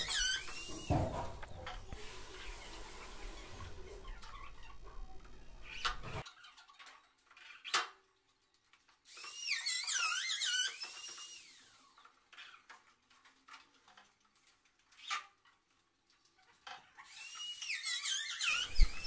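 Power drill boring hinge recesses into an apartment door, with bursts of high whining drilling separated by quiet pauses and short clatters, close and fairly loud.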